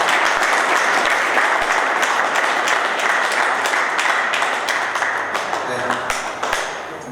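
A room full of people claps together at a committee meeting in Nizamabad to approve a report, sustained clapping with sharp individual claps standing out, gradually thinning toward the end.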